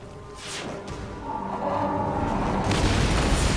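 Cannon fire striking and booming around a galley at sea in Assassin's Creed Origins, a low rumbling roar that swells and stays heavy, with brief sharper impacts layered in.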